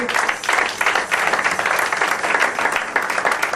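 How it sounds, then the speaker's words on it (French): A church congregation claps and cheers in praise at an evangelical gathering, a dense, steady wall of applause throughout. "Est-ce qu'on peut acclamer pour la gloire de Dieu?"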